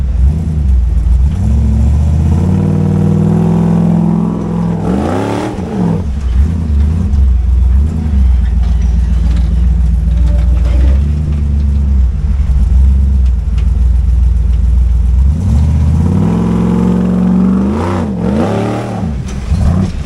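Off-road vehicle engine at Windrock Park revving hard for a launch, loud and close, with a sustained roaring rev, a dip near five seconds and another surge toward the end.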